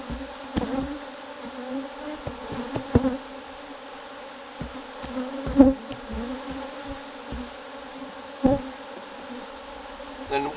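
Agitated honey bees swarm around their hive, a steady buzzing drone with individual bees zipping close past at intervals, louder passes rising out of the continuous hum.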